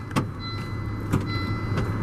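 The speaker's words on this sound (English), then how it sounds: "automatic window down" A 1998 Volvo V70 GLT's power window hums steadily downward against a low idling background, with a couple of faint clicks.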